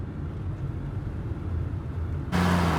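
A car engine rumbles low during a chase, then jumps abruptly into a louder, brighter roar as it accelerates near the end.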